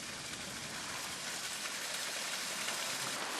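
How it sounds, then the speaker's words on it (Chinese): Heavy rain pours down over a large private peony garden, a dense, even hiss of falling water filling the whole stretch without a break. "园子的主人杜布，正为突如其来的大雨忧心忡忡。"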